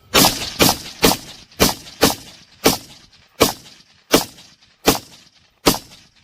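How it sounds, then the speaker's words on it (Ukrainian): Ten gunshots fired at a flying drone about 74 metres away, sharp loud cracks spaced roughly half a second to a second apart, each with a short echoing tail, outdoors with no voices between them. "Пробуємо 10 пострілів"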